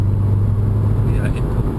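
A 2016 Subaru WRX tuned with a Cobb Access Port accelerates, heard from inside the cabin as a loud, steady low engine drone that holds without a break for about two seconds.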